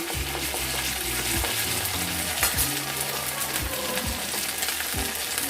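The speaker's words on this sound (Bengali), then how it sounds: "আদা বাটা দিয়ে একটু নাড়িয়ে দেব" Ginger paste frying in a hot pan, with a continuous sizzle and a few scraping stirs of a spoon over it.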